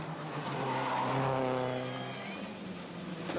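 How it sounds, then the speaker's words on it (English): A 2007 WRC rally car drives on tarmac, its engine note rising and falling as it passes fairly close, a single continuous roar that swells and then fades. "this is Sebastian Loeb on his way to first place"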